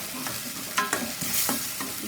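Curry masala with chicken masala powder is stirred through vegetables in a hot pan for pav bhaji, a spoon scraping in quick irregular strokes over a continuous sizzle.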